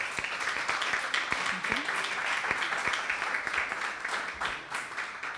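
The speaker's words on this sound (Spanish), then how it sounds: "ahora sí, un fuerte aplauso" An audience applauds to welcome a speaker at a tribute event, a steady, fairly close mass of clapping with a few distinct sharper claps standing out, continuing for the whole stretch.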